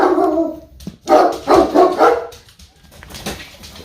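Several dogs bark in quick excited bursts, loud and close indoors, with a few yips between the barks.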